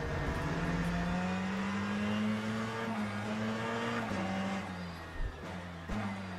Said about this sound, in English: we have an LMP2 coming through